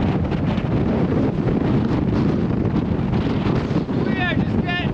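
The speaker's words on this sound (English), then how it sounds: "We are just getting buffeted by the wind." Strong, constant wind roars and buffets the microphone in a canyon where hikers are descending, a loud, unbroken rush with brief voice fragments near the end.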